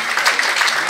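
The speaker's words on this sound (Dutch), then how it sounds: "een warm applaus" An audience applauding warmly at a Mrs Universe Belgium event, a dense, even wash of clapping heard close and loud throughout.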